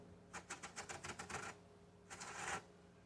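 A hand-cranked mechanical apple peeler cores and peels an apple for a crockpot apple crisp, giving a run of rapid rhythmic clicking scrapes followed by a brief pause and a denser rasping burst, close and fairly quiet.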